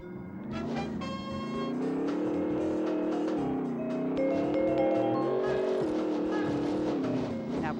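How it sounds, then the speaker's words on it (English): A cartoonish engine on a racing car in Rocket: Robot on Wheels drones with a steady revving hum that swells and dips across the whole stretch, loud and continuous under a bed of game music. "I'm about to race a Corn on the Cob car around the island"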